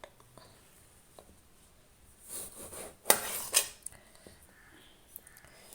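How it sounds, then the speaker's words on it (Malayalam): A knife slices a small tomato thinly on a cutting board while a weight-loss salad is prepared. A few close, soft cutting strokes and light clinks cluster in the middle of an otherwise quiet stretch. "ഇതേപോലെ സ്ലൈസാക്കിയിട്ട് അരിഞ്ഞെടുക്കാം"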